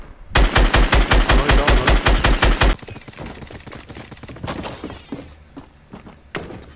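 Rapid automatic gunfire in the Fortnite video game rattles off in a loud, evenly spaced burst, then gives way to scattered thuds, impacts and a few lighter shots.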